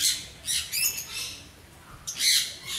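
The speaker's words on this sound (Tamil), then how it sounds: "Love birds. எவ்வளோ நல்லா இருக்குது." Lovebirds at an outdoor pet park in Mini Ooty, Kerala, let out several shrill, scratchy squawks in short bursts with brief pauses between them. The calls are close and fairly loud, and no one speaks.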